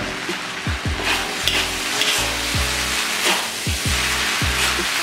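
Bean sprouts hit a hot frying pan for a Medan-style mixed stir-fry (pek cha), giving a steady close sizzle with the scrape and toss of stirring, and rhythmic low thumps running underneath.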